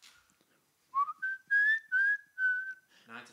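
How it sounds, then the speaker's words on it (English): A person whistles a short melody of several sustained notes, close and clear, with a brief voice at the very end. "I'm loving this whistling."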